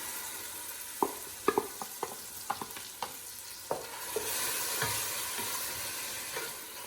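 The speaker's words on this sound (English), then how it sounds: "Now I'm going to add the onions that we grated." Grated onions drop into a pan of frying lobster with garlic and butter, followed by a series of spoon taps and stirring clicks over a steady sizzle that swells louder toward the end.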